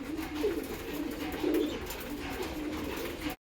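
Pet pigeons coo softly and repeatedly at close range, several low throaty calls rising over a quiet background hiss.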